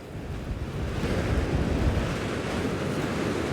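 Strong coastal wind at Margate roars steadily across the microphone, blended with a continuous wash of surf, growing slightly louder after the first second and staying even, with no talking.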